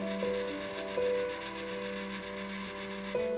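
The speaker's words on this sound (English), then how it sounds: "the auger will drive for a longer period of time" The auger of a Breckwell pellet stove under control testing drives with a low, steady mechanical grinding hum. A few soft clicks and tonal shifts mark the drive cycles. The sound is close and moderately quiet, with no speech.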